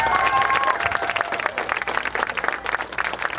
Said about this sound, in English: let's give a round of applause for all our helpers right here.